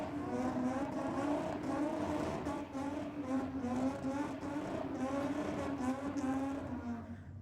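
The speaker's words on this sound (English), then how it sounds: "We got the Falcon back down here again, the nitrous Barra." Ford Falcon with a nitrous-fed Barra engine at a drag strip meet, a steady loud engine drone with a rich harmonic tone heard from a distance, holding over several seconds before fading slightly at the end.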